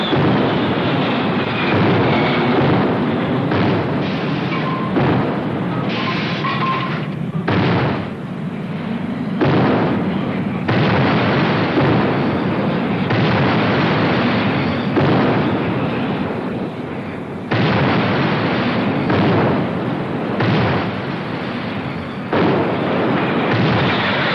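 Naval gunfire aboard the destroyer HMAS Vendetta in 1974 comes as loud, heavy booming blasts with rumbling tails, repeated irregularly over a sustained, roaring background.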